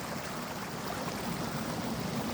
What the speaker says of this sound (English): Here's where that waterfall comes from. It goes down this hole